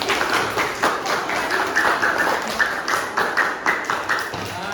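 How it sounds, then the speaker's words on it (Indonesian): Group 5 receives a round of applause in a classroom: steady, close clapping from many hands, with dense, fairly loud rhythmic patters that carry on for several seconds. "beri aplaus untuk kelompok 5"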